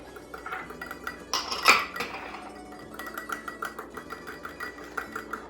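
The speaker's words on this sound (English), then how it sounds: "in here we have some olive oil and some fresh lemon juice. And I'm going to whisk that together." Metal whisk clinking and scraping against a bowl while olive oil and fresh lemon juice are beaten into a dressing, a quick rattling rhythm with a louder clatter early on, close and moderate in level.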